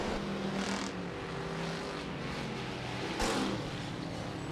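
MSTS sprint cars roar through turn four during a heat race at Rapid Speedway, a dense continuous engine drone with one car surging louder near the end.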